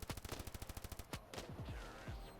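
Rapid bursts of automatic gunfire in the game Standoff 2 rattle off in quick succession, followed by a few heavier, separate shots, loud and close with a synthetic, game-like sharpness.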